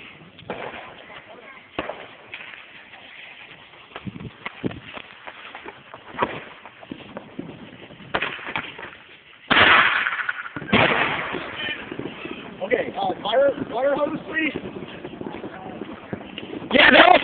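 Firecrackers, fourteen or fifteen of them taped to a Barbie doll with some gasoline inside, go off outdoors in a burst of sharp cracks and pops, with people talking and reacting around them.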